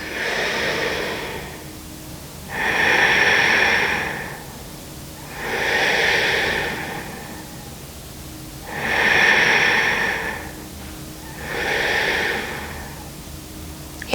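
Slow, deep breaths during an intermediate yoga flow for flexibility, four long airy exhale-inhale swells in steady rhythm, close and alone with no talking.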